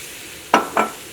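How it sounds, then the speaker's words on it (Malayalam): Vinegar poured into hot fish pickle masala in a pan, two quick loud hissing bursts of sizzle rising from a quiet background, close up with no speech. "1/2 കപ്പ് വിനീഗറും കൂടിയിട്ട് ചേർക്കുന്നുണ്ട്."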